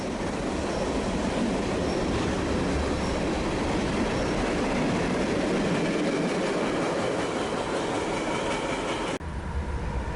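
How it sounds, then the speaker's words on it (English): A short CSX freight led by a GP40-2 and a slug rebuilt from a GP30, both former Chesapeake and Ohio units, rolls past close by on a warm day, a steady loud rumble of engines and wheels that cuts off abruptly near the end. "A warmer day provides another short train with a GP40-2 and a slug rebuilt from a GP30."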